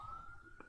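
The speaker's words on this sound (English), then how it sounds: "Sorry about the sirens in the background." A police siren wails faintly in the distance as a steady high tone, holding on under low background rumble with no talk.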